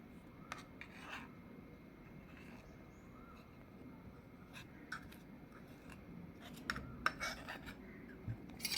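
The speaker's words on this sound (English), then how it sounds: "And give it a good mix." Chickpea sprout salad is tossed with an olive oil, lime juice and spice dressing, giving soft continuous rubbing and scraping with a few sharper clicks of a spoon against the bowl, close and quiet.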